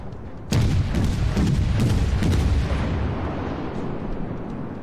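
Naval guns fire in a warship video game: a sudden loud broadband blast opens a dense, rumbling salvo with several sharp cracks layered over it, then it tails off into a sustained roar.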